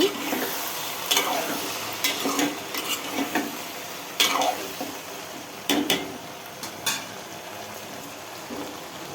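Okra curry cooks in a pan with a faint, steady sizzle, broken by intermittent stirring scrapes and light utensil clinks against the pan; no one speaks.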